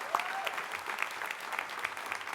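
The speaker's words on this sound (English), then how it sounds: "can we give a huge round of applause to Jackie Irwin?" Applause from a dinner audience at a capitol summit, steady clapping that holds for a couple of seconds at moderate volume, with no voices over it.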